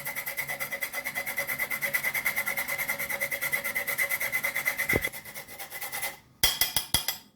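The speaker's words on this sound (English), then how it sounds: "So I have a big lemon here. So I'm gonna grate it. I need the zest." Lemon zest grated against a metal grater for a Jamaican Christmas fruit cake, a steady run of quick rhythmic rasping strokes close up, pausing briefly near the end before a few final scrapes.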